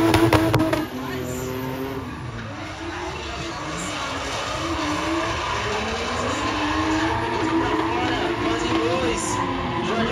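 Engine noise roars and tires squeal as a Toyota Hilux drifts at a drift event, with a steady, loud drone throughout and a sharp burst at the start.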